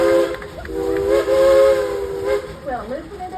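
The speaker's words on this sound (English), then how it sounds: "We like that whistle, Ichabod." A steam train whistle sounds a long, steady chord, then slides in pitch and fades, with hissing steam and background noise throughout.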